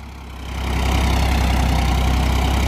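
A tractor engine runs during crop threshing, its loud, low drone rising in the first half-second and then holding steady and close.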